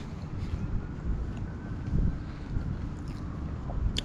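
Steady cold wind rushes and buffets the microphone in low rumbling gusts, with no talking.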